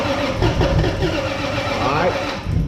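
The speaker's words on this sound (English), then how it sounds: "Go ahead, try to turn it over." A 700-horsepower Toyota Supra build cranks and catches close by, the starter churning into a rough, loud engine note that runs steadily under voices talking over it.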